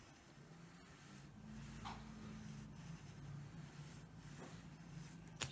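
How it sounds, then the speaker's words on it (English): A pencil draws a curve on paper while sketching an ellipse, a faint, soft, steady scratching close by over a low background hum, with no talking. "Draw the curve at the side."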